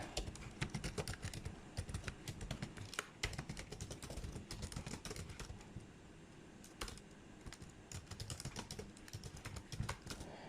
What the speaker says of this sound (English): we have to hit tab in our keyboard, and then let's type out appendix G